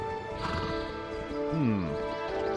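A horse in the video game World of Warcraft gives a clear, close neigh with a rising-and-falling whinny, alongside hoof clops and game music.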